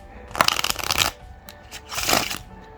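A deck of old playing cards being riffle shuffled up close, two quick ruffling bursts of cards snapping together.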